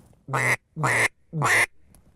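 Three loud, evenly spaced quacks from a duck call imitating a hen mallard, each nasal and abrupt, with brief silence between them.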